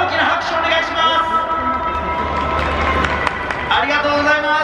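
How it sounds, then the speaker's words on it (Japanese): Crowd at a high school soccer championship stadium clapping and cheering during a halftime show, a broad wash of applause heard under an announcer's amplified voice. "声が届いている場合は皆さん大きな拍手をお願いします。"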